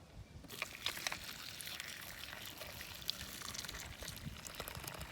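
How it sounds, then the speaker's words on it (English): Water pours steadily into a container holding a diecast Corgi Rockets Cadillac Eldorado model car and its base, a soft continuous splashing and trickling that stays fairly quiet throughout. "So in with the water."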